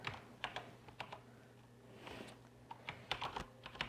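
A computer keyboard tapped while entering code in Small Basic: quick clusters of crisp keystrokes with brief pauses between bursts, fairly quiet and close, with no voice.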